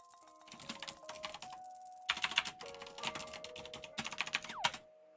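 Typing on a computer keyboard in quick, uneven bursts of clicky keystrokes, close and moderately quiet, with soft tonal background music running underneath.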